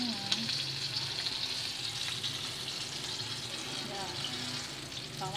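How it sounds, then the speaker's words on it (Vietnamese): Chicken pieces frying in hot oil for Vietnamese crispy fried chicken, a dense steady sizzle with occasional stirring and scraping, faint voices in the background. "Bây giờ là tới công đoạn là chiên"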